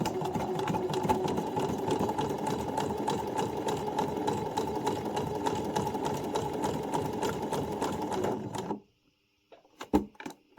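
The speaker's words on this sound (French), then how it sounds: "Et je vais coudre comme ça tout le long" A sewing machine runs steadily, stitching along a pompom trim for a scrunchie in a fast, even chatter up close, then stops abruptly, followed by a few soft handling clicks.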